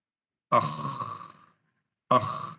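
A voice imitates snoring during a Quran recitation (tajwid) lesson: two rasping, throaty bursts, the first about a second long and the second shorter, close and fairly loud with silence between.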